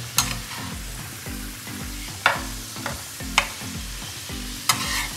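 Chicken for chicken champ fries in a pan while a spatula turns and mixes it, giving a steady sizzle under rhythmic scraping strokes punctuated by sharp metallic clinks, close by with no speech.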